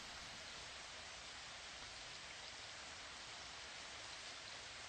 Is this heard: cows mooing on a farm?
no